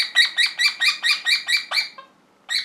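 A budgerigar with a tumour chirps in a quick, regular series of about eight close, bright calls, pauses briefly, then chirps once more.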